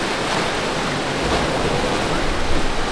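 Sea water at Ponta da Piedade surges and washes below the cliffs, a loud, steady broadband rush of surf with no clear voices.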